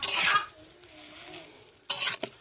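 Washed vegetables, sweet pumpkin and young Malabar spinach, go into a pot in two short scraping, rustling bursts separated by a quiet pause, with no talking.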